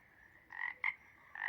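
A toad croaks three times nearby in short, buzzy, nasal calls, the first two close together and the last one longer, against a quiet background.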